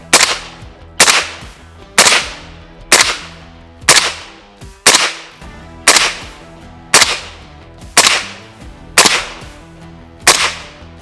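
Ten loud gunshots from a handgun fired at a target on a shooting range, evenly spaced about one second apart, each a sharp close crack with a short ringing tail.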